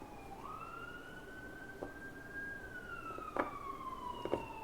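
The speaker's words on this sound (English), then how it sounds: "Sorry about the sirens." An emergency vehicle siren wails past outside, its pitch sweeping up, holding, then sliding down as it moves away, with a few sharp clicks near the end.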